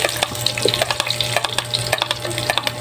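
Onions sautéing in a small amount of oil for chicken curry, a steady close sizzle broken by the scrape and clack of stirring throughout, with no talking.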